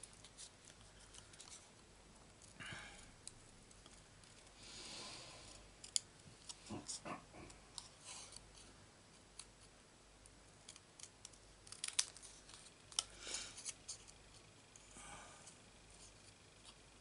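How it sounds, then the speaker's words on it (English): Scissors snip through paper while a butterfly shape is cut out for a card, producing quiet scattered clicks and soft crisp cuts in small irregular clusters, faint and close, with no talking. "Now we're going to cut out the butterfly."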